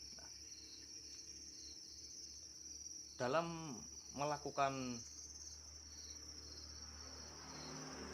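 Crickets at a cricket farm chirp in a steady, continuous high trill throughout, with a voice speaking briefly over it in the middle.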